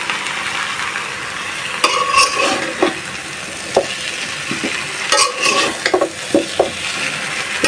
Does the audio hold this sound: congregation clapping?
no